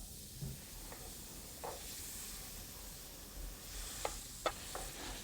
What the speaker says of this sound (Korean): 후라이팬으로 뭘 볶을 때는 후라이팬의 손잡이를 꼭 잡아줘야 돼요